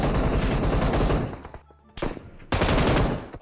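Loud bursts of automatic gunfire from a video game, continuous rapid firing that breaks off briefly near the middle, then comes back in two more heavy bursts, close and dominant.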